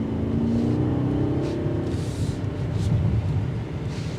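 A 2024 BMW 760i with its S68 V8 pulls hard under acceleration, a steady loud engine drone with a rising tone early on, heard from inside the cabin with no talking.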